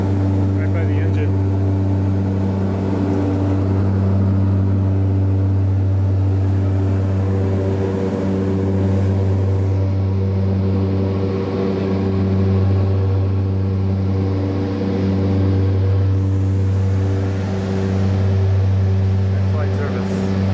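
Steady, loud drone of a small passenger plane's engine in flight over Nepal, heard from a seat under the wing beside the engine, with a deep tonal hum and layered harmonics holding constant throughout.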